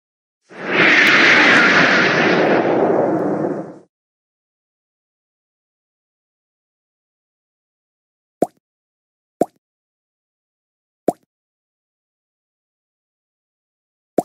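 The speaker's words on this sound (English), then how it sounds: "Rocket." A rocket launch effect plays from a jigsaw puzzle toy, a loud roaring burst of noise lasting about three seconds, followed by silence and a few sharp isolated clicks.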